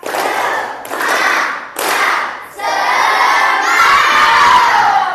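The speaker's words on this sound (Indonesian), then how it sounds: "Saya mau lihat tepuk semangatnya." A classroom of schoolchildren shouts a loud spirit chant together in three short bursts, then a longer shouted phrase, with thumps and claps mixed into the rhythmic group cheer.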